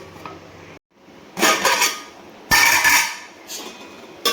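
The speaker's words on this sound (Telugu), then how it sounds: "ఇప్పుడు మూత ఓపెన్ చేసి ఒకసారి ఇలా కలుపుకోవాలి" A spoon scrapes and clanks in a pan while cooked gongura leaves and green chillies are stirred, sounding as a few loud, close bursts of metallic scraping with short quiet gaps between them.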